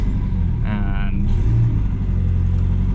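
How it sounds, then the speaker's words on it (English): Power steering pump on a Nissan 240SX whining as the engine revs, a steady mechanical drone with a brief rising tone, close and loud, with a voice speaking over part of it. "Pump's just making a whining noise."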